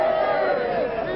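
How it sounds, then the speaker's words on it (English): A crowd at a racecourse cheers and murmurs ahead of a horse race, a continuous broad wash of massed voices at steady loudness throughout. "he's getting a cheer"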